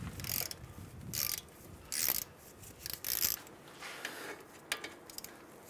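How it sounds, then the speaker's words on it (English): A torque wrench tightens two front brake caliper bolts on a 2015-2019 Hyundai Sonata to 20 foot-pounds, giving quiet ratcheting clicks and a few sharper metallic snaps up close, with no talking. "Now we can come back and torque these two caliper bolts down."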